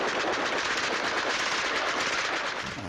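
Rapid bursts of night-time gunfire in a neighbourhood crackle continuously, like a machine gun firing in a dense, unbroken stream, moderately distant.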